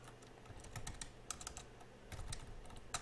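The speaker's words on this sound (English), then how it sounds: "Oops. I was typing Lightning Helix." Bursts of quick clicks from a computer keyboard as someone types, short clustered runs of keystrokes separated by brief pauses, fairly close and quiet.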